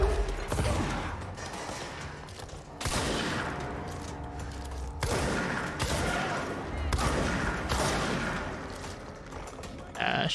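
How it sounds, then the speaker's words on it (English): Shotgun fire in the video game Control: heavy, booming blasts go off one at a time at irregular intervals, each followed by a ringing tail over a busy combat background. "Shotguns are great."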